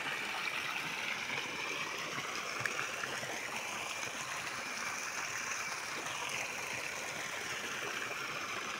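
Water flowing into a fish pond, a steady, even rush and gurgle with no break, moderately quiet and heard alone.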